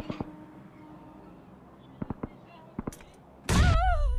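A grenade or bomb goes off in the BGMI (PUBG Mobile) mobile shooter: a few sharp gunfire cracks come first, then a loud, sustained blast with a ringing tail closes the moment.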